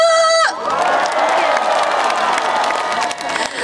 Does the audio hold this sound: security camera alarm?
no